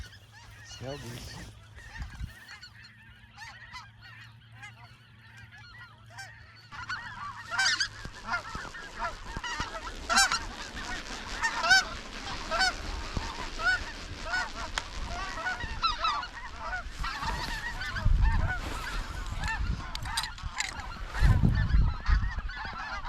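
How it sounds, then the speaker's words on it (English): Snow geese calling, a dense chorus of honks building from sparse and faint to a steady overlapping clamor, heard outdoors at a distance with low rumbles and a few brief voices near the end. "Snow goose."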